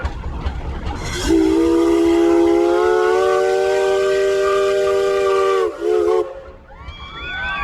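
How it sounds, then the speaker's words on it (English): Whistle of a 1920 Case 80 horsepower steam traction engine at a threshing show parade, one loud sustained blast of about four seconds, then a brief second toot and a fainter whistle at the end. "Paul Garrity out of Lake Mills, Wisconsin, operating his 1920 case 80 horsepower steam engine."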